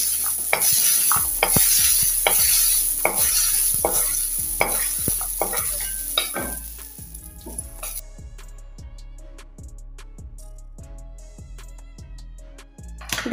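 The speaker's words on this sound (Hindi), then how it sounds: "देखिए, मटर भी भून के तैयार हो गया।" Peas sizzle as they fry in a hot pan while a utensil stirs them in a steady scraping rhythm, loud and close, the frying hiss fading partway through while the stirring continues.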